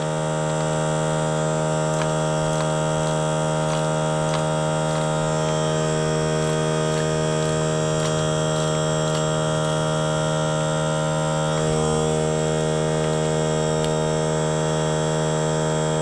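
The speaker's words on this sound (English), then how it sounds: "And yes, I know this noise is annoying. But if you're going to engage in these activities, you do need an air compressor" A small, inexpensive air compressor runs during a dirt-bike tire change on a Yamaha WR400F, a loud constant motor hum with steady tonal drone and faint regular ticking throughout, no speech.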